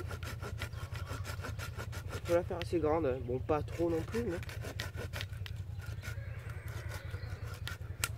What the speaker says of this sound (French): il faut encore que je scie